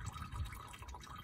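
Motor oil draining from the sump of a 2020 Subaru Outback during an oil change, a faint continuous trickling pour with soft drips, quiet and close, no talking.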